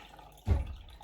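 Turkey juices poured off from a roasting pan for gravy: one short, splashy pour with a low gurgle, close and fairly loud, stopping quickly against a quiet room.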